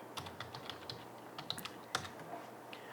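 Light key clicks on a computer keyboard while a command is entered on a Windows machine, a quick irregular patter of soft taps, close but quiet, no talking.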